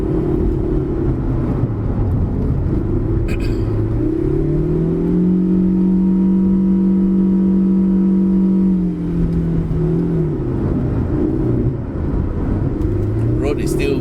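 Proton Saga FLX 1.6 car engine pulling in low gear on a wet road, a steady hum that rises in pitch, holds high, then falls back as the car takes a corner, with a voice talking over it.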